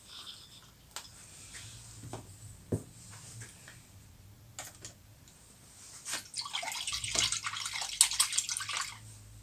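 Small metal parts soaked in rust dissolver are rinsed in water, with scattered clinks and splashes early on. Fuller running and splashing water follows toward the end. The sounds are close but fairly quiet.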